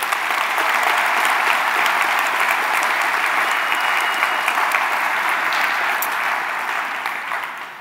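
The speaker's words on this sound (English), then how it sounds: "big round of applause to the DevTools teams at all the browsers" Sustained, dense applause from a conference audience at CSSconf EU for the browser DevTools teams, loud and even throughout before tapering off slightly near the end.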